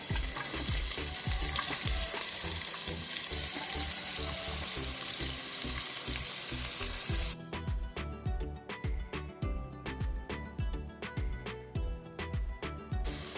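Finely chopped onions fry with fennel seeds in a pan for chicken curry. A dense, close sizzle gives way halfway through to a sharper crackle, broken by rhythmic scraping from stirring.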